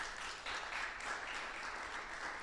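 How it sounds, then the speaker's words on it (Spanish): Church congregation applauding at a general worship meeting, a dense, even patter of many hands clapping continuously, fairly distant and soft. "Eso merece un aplauso."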